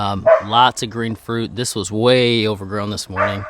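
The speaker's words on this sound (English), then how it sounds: "excuse the dogs barking here" Dogs bark in short bursts behind someone talking continuously as he walks through a home vegetable garden with pepper and tomato plants.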